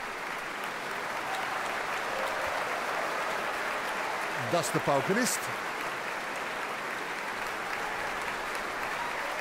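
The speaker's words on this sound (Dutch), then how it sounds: "ze geeft iedereen een deel van het applaus" Concert hall audience applauding the Netherlands Philharmonic Orchestra after Tchaikovsky's Symphony No. 5, steady dense clapping throughout with a presenter speaking briefly over it midway.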